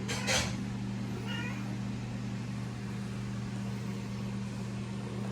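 A single short cat meow near the start, then a steady low electrical hum fills the rest of the quiet stretch.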